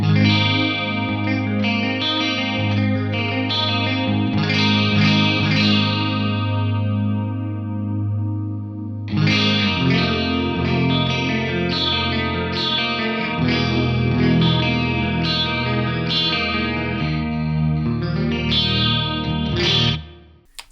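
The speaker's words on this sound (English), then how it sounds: "It's starting to sound more like a chorus now." Electric guitar chords ring out through a shimmering, wavering chorus-like pitch detune effect, with a brief gap partway through and no voices.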